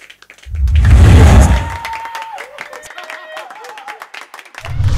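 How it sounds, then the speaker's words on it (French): Audience at a stand-up comedy show claps and cheers, with a loud burst of applause and a low rumble early on, then a quieter scattering of claps under a speaking voice, and a fresh swell at the end. "On peut applaudir."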